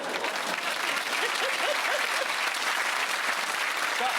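A studio audience at a comedy show breaks into sustained, dense applause that holds at an even level throughout, with a few faint whoops and voices mixed into the clapping.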